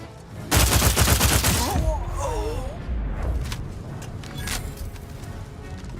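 Rapid automatic gunfire from a gun in a war-themed video game rattles out in a loud burst near the start, then gives way to scattered distant shots and battle noise with a voice talking over it.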